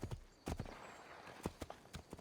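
Horse hooves clip-clop in Assassin's Creed 2, a brisk irregular gallop of sharp hoof strikes close by, with brief gaps between bursts and no talking over them.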